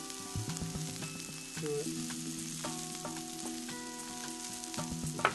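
Garlic sizzles and fries in a pan with onions and leftover salmon drippings, a soft steady crackle broken by occasional stirring scrapes. A quiet voice speaks briefly.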